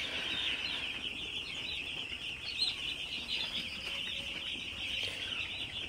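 Three-day-old broiler chicks chirping in a poultry shed, a dense, continuous chorus of high peeping from many birds at close range, with no talk.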